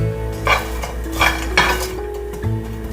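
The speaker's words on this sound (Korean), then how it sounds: "아몬드는 슬라이스라서 조금만 볶으면 돼" Sliced almonds being stir-fried briefly in a pan, with three or four rhythmic spatula scrapes and clinks against the metal over a faint sizzle and a low steady hum, close by and without speech.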